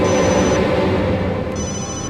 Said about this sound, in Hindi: ए, उसी का फोन है।